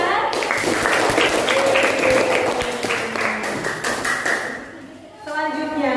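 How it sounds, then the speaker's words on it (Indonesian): A class of students in a school lesson clap their hands together, a busy burst of clapping mixed with thumps and voices that dies away near the end. "Boleh tepuk tangan?"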